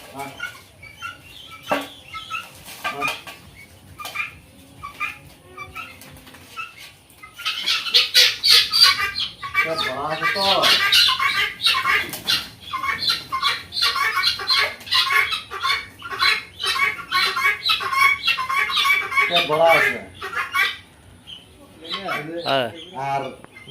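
Farm chickens cluck and squawk in bursts with brief wing flapping, a dense flurry of calls in the middle, while a person talks nearby.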